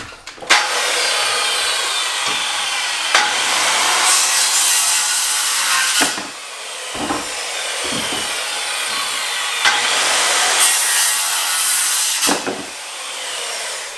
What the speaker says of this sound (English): then I'll cut my joist to length, or studs rather,